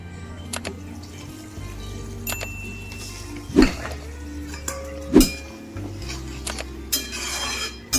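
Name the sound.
stirring fried small fish in a pan, covering with lid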